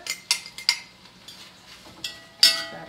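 A spoon stirring ham and onion in a pot gives several sharp clinks and scrapes in an irregular rhythm, close and fairly clear over a quiet background.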